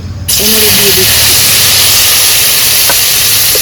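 Boiled, pasted amla frying in ghee in a pan, giving a steady loud sizzling hiss that holds throughout, with a faint low hum beneath.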